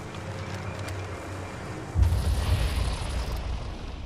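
A frag grenade goes off in a shooter video game: after two seconds of low ambient rumble, a sudden loud, broad blast rolls into a noisy, crackling tail that fades out.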